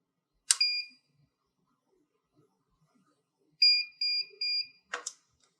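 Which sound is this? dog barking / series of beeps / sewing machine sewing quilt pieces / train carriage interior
series of beeps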